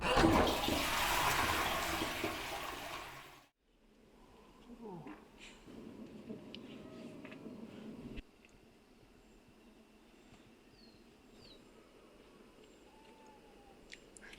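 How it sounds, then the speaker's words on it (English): A toilet flushes loudly at a wild camp, a close, rushing burst of water lasting about three seconds that cuts off abruptly. Quiet outdoor ambience follows, with faint sounds and a soft voice. "by the time the toilet is flushed, it'll be morning"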